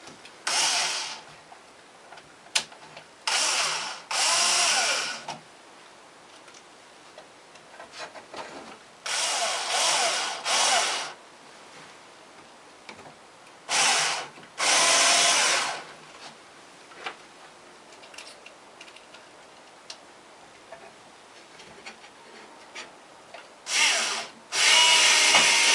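Power drill driving screws into wooden boards, loud whirring bursts in repeated short runs separated by pauses with faint handling noise, up close and without talk.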